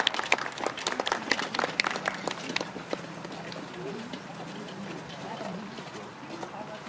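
Applause from the crowd at a horse racecourse in Dinslaken on race day, scattered clapping strongest at the start and fading, with hoof-like thuds and voices talking underneath.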